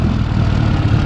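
A GAZ-69 engine idles close by with a steady, throbbing low rumble over one brief, even stretch.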